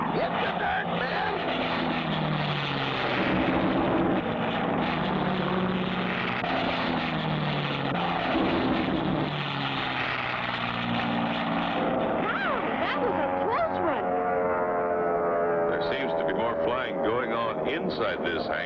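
A cartoon propeller plane drones steadily throughout as it banks toward a hangar, its engine tone shifting slightly, with voices talking over the constant hum.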